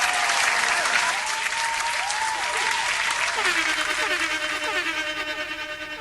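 Audience at a graduation ceremony applauds warmly and continuously, a sustained clatter of many hands filling a large hall, with faint tonal music or feedback lines running underneath and the clapping thinning slightly toward the end.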